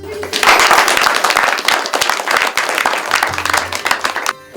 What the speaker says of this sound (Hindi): आप सभी तालियों से अपने मेहमानों का स्वागत करें।